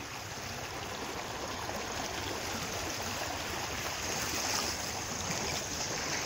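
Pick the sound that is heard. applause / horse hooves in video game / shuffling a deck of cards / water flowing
water flowing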